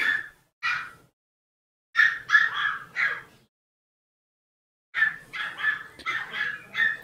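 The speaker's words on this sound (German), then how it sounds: "Der Hund ist wieder da." A dog barks in short bursts, two single yips, then a quick run of four, a pause, and a longer string of rapid barks, moderately distant and clear against a quiet background.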